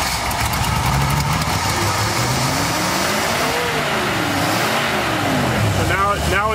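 A Ford Bronco engine runs loud and steady, its pitch sweeping up and down through several revs, with a sharper rise near the end and faint voices in the background.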